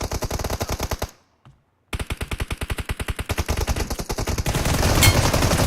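Rapid automatic gunfire in the video game PUBG: a long burst of evenly spaced shots, a sudden pause of nearly a second, then another sustained burst that swells louder toward the end.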